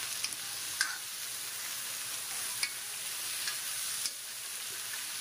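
Potatoes fry with onions and peas in a pan, a soft steady sizzle close by, marked by a few sharp spatula knocks and scrapes spaced through the stretch.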